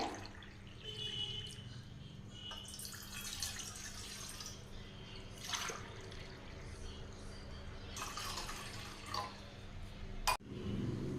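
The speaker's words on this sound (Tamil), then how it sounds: "இந்த டம்ளரில் வந்து ரெண்டு டம்ளர் தண்ணி சேர்த்திக்கலாங்க" Two tumblers of water trickle and drip steadily into a pot for horse gram porridge at moderate distance, with faint splashes and a low hum underneath, ending in a sharp knock.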